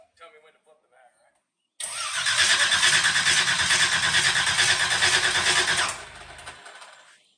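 A nostalgia front-engine dragster fires up, its engine bursting into a loud, rough, pulsing roar for about four seconds before cutting out, following faint voices and a quiet pause.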